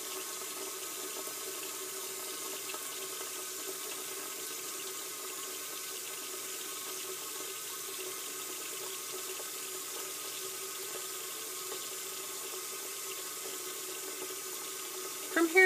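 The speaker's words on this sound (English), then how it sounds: "you'll rinse them from wrist to fingertip in that order, under running water" Tap water runs steadily into a sink as hands are rinsed from wrist to fingertip, a soft, even, continuous splash with no talking.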